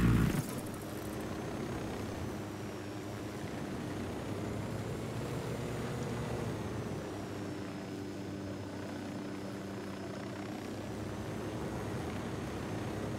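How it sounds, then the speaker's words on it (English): Attack helicopter armed with miniguns in the Ghost Recon video game, set in Bolivia: a steady, loud rotor and engine roar holds throughout, with a sharp burst at the very start. "do you like being woken up like this in the morning by an attack helicopter with miniguns?"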